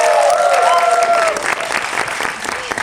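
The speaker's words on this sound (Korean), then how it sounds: "박수 쳐주셔도 돼요." An audience at a film screening Q&A claps loudly at first, then the applause thins out toward the end as a voice speaks over it.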